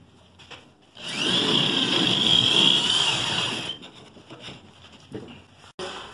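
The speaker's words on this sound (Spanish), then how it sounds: "con el uso de un taladro y una broca de 3 octavos, que es esta, 3 octavos de pulgada, vamos a perforar los cuatro puntos" A power drill fitted with a 3/8-inch bit bores into a wall to mount a television bracket, whining loudly in one sustained run of about three seconds, close by, followed by quieter handling noises.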